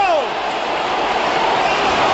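A football crowd applauds and roars after a goal in a Huddersfield Town match, producing a dense, continuous wash of cheering and clapping.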